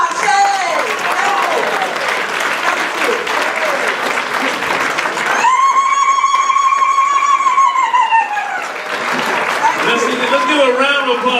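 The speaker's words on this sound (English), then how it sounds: "Let's give a round of applause for Nana Camille Yarbrough." An audience at Essex County College applauds a speaker with loud, dense, sustained clapping that runs nearly continuously, while a sustained voice or tone rises over the applause midway before the clapping swells again.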